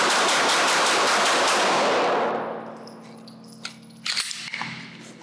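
Glock Gen 6 pistol fired at a shooting range, a dense run of sharp, loud shots in quick succession for about two seconds, followed by quieter clinks, metallic rattles and handling noises.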